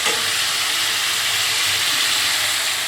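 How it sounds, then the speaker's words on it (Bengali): Onions fry in hot oil in a home kitchen pan, giving a steady, close, continuous sizzle and hiss with no voices. "আর পেঁয়াজটা ভেজে নিয়ে মধ্যে ছেড়ে দিলাম।"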